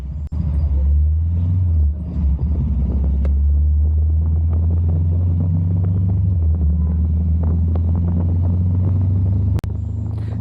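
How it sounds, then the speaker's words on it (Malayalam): A Royal Enfield Scram 411 motorcycle is ridden, its engine giving a loud, steady low rumble that shifts slightly in pitch as it pulls along. Wind and road noise sit close, with no speech. "നമുക്ക് ഈ സ്ക്രാം ഫോർ ഇലവനെ ഓടിച്ചു നോക്കാം"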